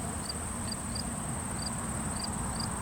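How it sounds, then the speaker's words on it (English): Crickets chirp outdoors in a quiet spot near Ottawa around midday, a faint high steady trill with a few brief chirps over a low ambient rumble. "Just get to hear crickets, the odd little car, obviously airplanes"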